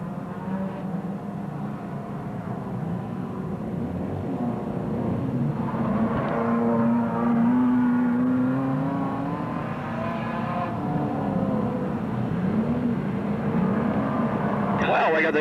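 Standard saloon race cars thunder around Wollongong City Speedway in 1983, their engines droning and rising steadily throughout while a commentator talks over the racket.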